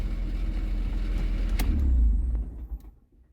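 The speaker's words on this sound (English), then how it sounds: "Alright, let's shut the car off." A 1989 Chrysler LeBaron GTC Turbo engine idles with a steady low rumble, then is switched off, the sound dropping away to near silence with a few faint ticks and clicks.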